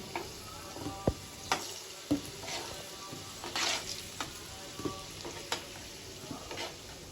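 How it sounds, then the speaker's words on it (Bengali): Potatoes fry in hot oil in a pan for a home-style country chicken curry, a soft steady sizzle with occasional clicks and stirring scrapes, quiet and close, with no talk. "আলুগুলো লাল লাল করে ভাজা গেছে আলু ভাজা হয়ে গেছে"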